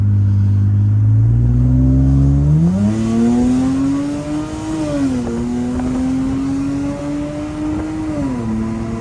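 A Lexus GS300 engine, swapped to a manual gearbox, roars under hard full-throttle acceleration, pitch climbing through gear changes with brief dips between shifts, loud and close.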